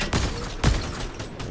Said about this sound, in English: There's a gunshot.